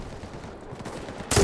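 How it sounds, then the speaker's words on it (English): A grenade launched in the WW2 shooter game Enlisted: a low ambient rumble, then a sudden loud, broadband blast near the end of the clip. "Let's go ahead and launch a grenade over there."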